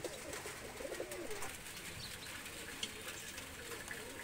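Fakirgul pigeons cooing softly, with low, rounded coos repeating over a quiet background of faint rustle and water-like hiss.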